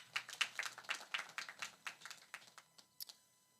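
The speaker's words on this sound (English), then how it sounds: "May we acknowledge them with a clap of hands." An audience at a university graduation ceremony claps for the graduating class: scattered, fairly faint hand claps in a loose irregular patter that thins out toward the end.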